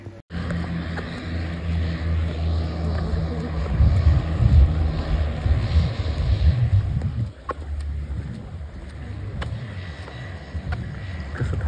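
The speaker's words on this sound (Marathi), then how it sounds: "सी प्लेन तिथे आलेला आहे. ही आमची स्पीड बोट" A speedboat engine roars on the sea in the Maldives with a seaplane nearby, a loud continuous low drone that swells and eases, with faint talk beneath it.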